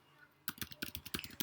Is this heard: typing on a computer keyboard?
yes